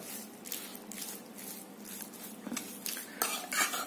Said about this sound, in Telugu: తర్వాత పసుపు పసుపు వేయడంతో ఒక లుక్కి వచ్చేస్తండి అలాగా పై పైన చక్కగా కలుపుకోండి